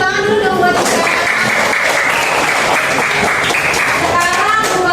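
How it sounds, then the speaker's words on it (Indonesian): A classroom of students claps for their classmates at the teacher's request, loud close clapping throughout with children's voices and chatter mixed in. "tepuk tangan dulu dong buat kita"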